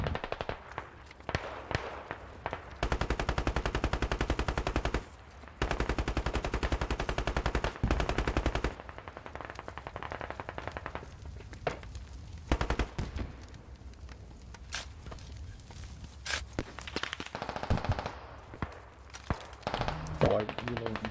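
Machine-gun fire from a gun in a video game about Russian special forces, long rattling automatic bursts broken by pauses, loud and close, with brief scattered shots between bursts.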